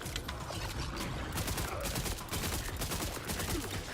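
Rapid submachine gun fire in the video game Borderlands, a dense, sustained rattle of shots running loud and steady throughout, with game effects layered underneath.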